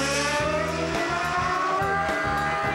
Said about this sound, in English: Australian Formula One driver Mark Webber was given the chance to act out every Sydney commuter's dream, the Sydney Harbour Bridge to himself